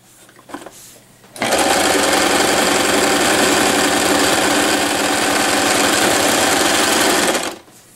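A sewing machine runs in one continuous loud burst of about six seconds, stitching a jean skirt seam with a rapid mechanical chatter, preceded by brief handling noises.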